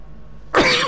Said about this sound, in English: Sorry, bit of cough.